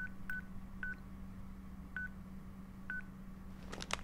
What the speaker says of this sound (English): The flip phone.